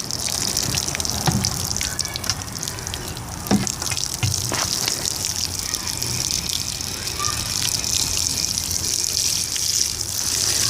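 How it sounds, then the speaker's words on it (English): Water pours from a watering can onto garden plants in soil on a sunny April day, a steady continuous gushing and splashing stream that runs for several seconds, close and fairly loud, with no talking over it. "let's water them in."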